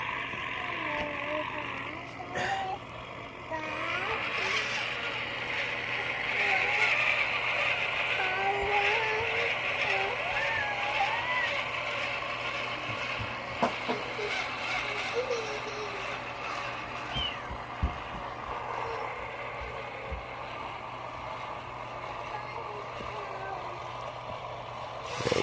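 An Exceed Maxstone 1/16 scale RC rock crawler climbs a hill, its small electric motor whining steadily and shifting in pitch as it strains, with a person talking over it.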